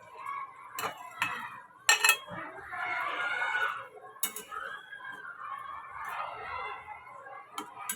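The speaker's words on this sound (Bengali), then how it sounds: "এবার এই ভাজা মাছগুলো দিয়ে দিই" Fried shing fish is added to a half-reduced simmering curry in a pan, with a series of utensil clatters and clinks, a bubbling, hissing wash in between, and faint voices in the background.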